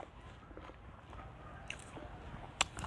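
Crunchy bites of green mango salad with fermented fish sauce, soft chewing and squishing close up with a couple of sharp crisp crunches, quiet overall.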